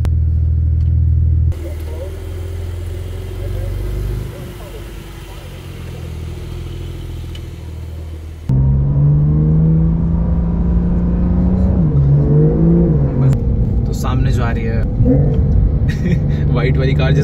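Supercar engine roaring on a race track, a loud continuous drone that shifts pitch as it speeds up, with someone talking over it throughout.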